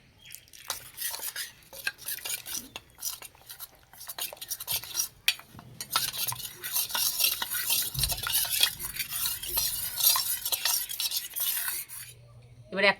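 Cornflour, salt and water are stirred into a batter in a bowl, with continuous scraping and clinking of a spoon against the bowl, quiet at first then busier and steady, no talk over it.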